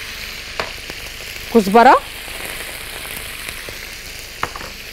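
Calamari fries in hot oil with a constant low sizzle and a few sharp spattering pops, while someone briefly speaks once mid-way.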